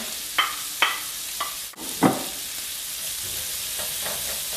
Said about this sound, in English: And we're going to let the asparagus keep cooking with the onion in there now too.